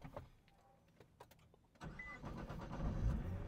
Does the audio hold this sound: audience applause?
no